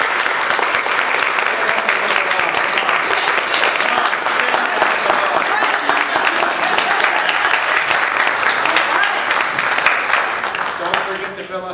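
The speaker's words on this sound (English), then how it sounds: "Let's give it up and give us our rousing round of applause." A rousing round of applause fills a room at the close of a corporate training session, loud dense clapping sustained throughout before tapering off at the end.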